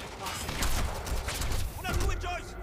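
Sniper fire and gunfire from the shooter game Quantum Break come as sharp repeated cracks. The shots mix with game noise while a player shouts excitedly over them.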